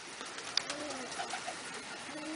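Pigeons coo faintly near a trap, soft low calls scattered over a hissy outdoor background with one sharp click.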